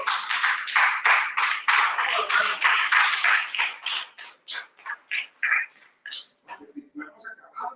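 A church congregation claps for the Lord in a fast, steady rhythm that starts dense and loud, then thins into scattered claps as a voice begins speaking.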